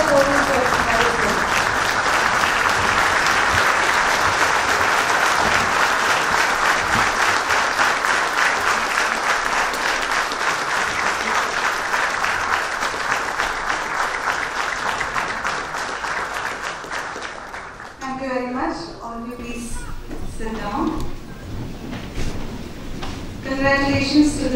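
Parents and faculty giving sustained applause as first-year MBBS students of the 2023 batch enter the podium at a college ceremony; dense clapping fills most of the stretch, then fades under a speaker's voice.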